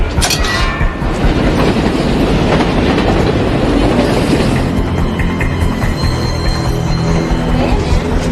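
A train rolls along its rails with a steady, loud rumble and faint metallic clatter, carrying on continuously from start to finish with no talk over it.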